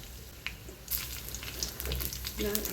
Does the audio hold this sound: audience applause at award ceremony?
no